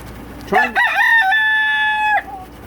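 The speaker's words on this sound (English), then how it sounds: "Got a dang attack rooster out there." A rooster crows loudly and close by, one full call with a rising start and a long sustained, slightly wavering note before it cuts off.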